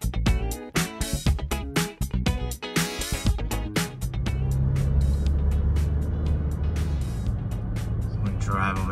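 A person talks over light road noise, then a car engine rumble takes over, steady and close, as the car drives through a new home development on a warm day.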